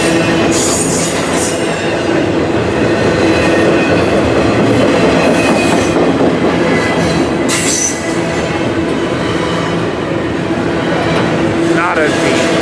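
A double-stack freight container train passes close and loud at Fullerton, a continuous rumble of railcars with wheel squeal and clickety-clack throughout, and brief voices beneath the noise.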